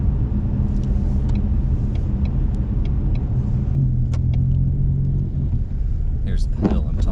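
Ford Mustang driving on a snowy road with a steady low engine rumble throughout, loud and close, with throttle shifting between floored and eased off, and a few faint clicks and scrapes near the end.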